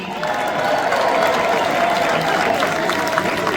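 Crowd applauding and cheering at a Pierre Poilievre political rally in Vaughan, Ontario, a dense, steady wash of clapping held at an even level throughout, with no voice standing out.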